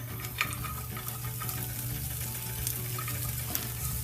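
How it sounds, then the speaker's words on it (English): Onions fry in a pan with a soft, continuous sizzle and light crackle over a steady low hum, fairly quiet and even throughout with no talking. "I'm just gonna put my onions in the pan and get them going"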